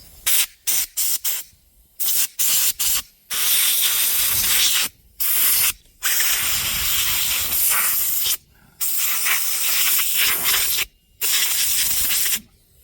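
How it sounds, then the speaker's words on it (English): Compressed air from an air compressor's air gun blasts over a Radley 50cc chainsaw to clean it, coming in loud, close hissing bursts of varying length separated by short silences. "So, air compressor and air gun."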